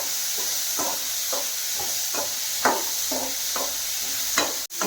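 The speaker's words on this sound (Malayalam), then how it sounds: "കുറച്ച് വെളിച്ചെണ്ണ ഒഴിച്ചിട്ട് നമുക്ക് ഈ ഉള്ളി ഒന്ന് വാട്ടിയെടുക്കാം" Onion sautéing in coconut oil for a Kerala-style sambar, with a steady sizzle and hiss and repeated stirring scrapes in an even rhythm, plus a sharp knock near the end.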